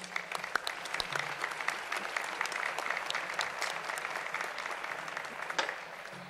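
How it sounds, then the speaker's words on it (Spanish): Audience applause at an awards and honours ceremony in Valdepeñas, greeting the poet Carlos Marzal: dense, steady clapping from a seated crowd throughout, fairly distant and even in loudness, with no speech over it. "Un fuerte aplauso para él."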